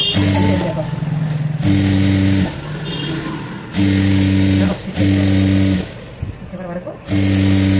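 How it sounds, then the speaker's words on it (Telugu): Sewing machine stitching cloth lining for an umbrella dress, loud close motor whirring in several runs with brief pauses between, while someone talks over and between the bursts. "ఒక స్టాప్ స్టిచ్ చేసుకోవాలి"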